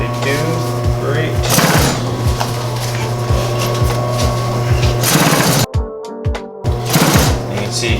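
A sewing machine stitches a leather duffle bag in loud, close, rhythmic bursts of rapid needle chatter, pausing briefly between runs while a person talks.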